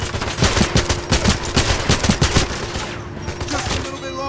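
Rapid bursts of gunfire from the video game 007 Legends, laid down as cover fire in a rhythmic run of sharp shots for over two seconds, then easing into quieter mechanical game sounds.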